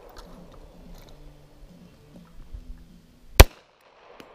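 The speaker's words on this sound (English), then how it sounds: "Here's Christina with the big 45" A single sharp .45 caliber pistol shot cracks out loudly at an outdoor shooting session, after a stretch of faint background rumble and murmuring.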